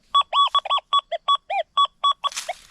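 XP Deus II metal detector sounding its audio tone: a quick run of about a dozen loud electronic beeps, close and alone, with some warbling in pitch and a short scraping rustle at the end.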